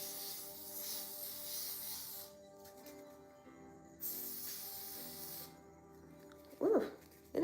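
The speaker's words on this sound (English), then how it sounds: "I'm taking the Ebin Extreme Firm Hold Spray and just spraying that right in front of my hairline on my skin." Ebin Extreme Firm Hold hair spray sprayed along a hairline in two long hissing bursts separated by a pause, close and soft, with a brief rustle near the end.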